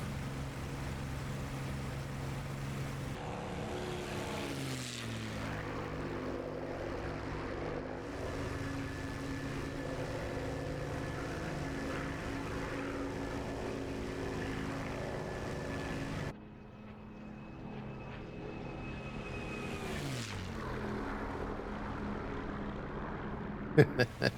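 A Bf 109 K-4 propeller fighter in DCS roars steadily through its takeoff run, the engine droning loud and continuous with pitch sweeps as power changes, briefly dropping before surging again, with some talk in the background.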